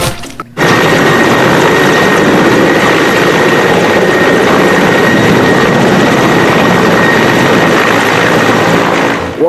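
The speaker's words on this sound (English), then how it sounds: "Helicopter!" Loud, continuous helicopter rotor and engine drone, very close and steady after a brief quiet moment at the start.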